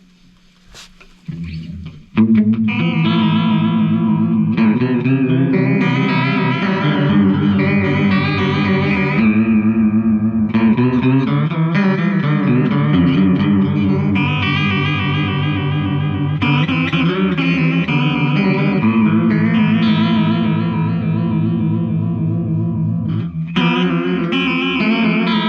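Distorted electric guitar runs through an analog chorus pedal with depth and rate turned all the way up, giving a warbling, swirling pitch wobble over sustained chords and riffs that play loud and continuously with no voices.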